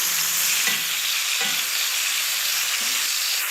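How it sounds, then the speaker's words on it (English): Olive oil hisses in a hot pan as a steady, fairly loud broadband sizzle, with a couple of soft knocks from a utensil. "So we put a little bit of the good olive oil back in here."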